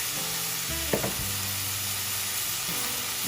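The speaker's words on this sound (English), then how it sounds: "It's just frying." Bulgogi meat sizzling steadily in a hot pan, a continuous crackling fry with a faint clatter partway through.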